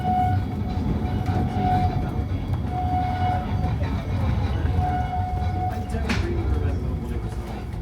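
A Great Orme Tramway tram waits at Halfway station above Llandudno, North Wales, with a steady rumble and recurring whining tones, then a brief sharp squeal near the end.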